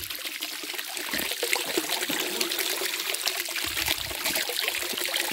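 Fresh water trickles and splashes over rock in a small waterfall, a close, continuous babbling stream sound with no voices.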